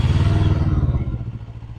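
A Morbidelli F252 street motorcycle engine catching and idling, a brief loud rumbling burst that settles into a lower uneven putter, heard alone.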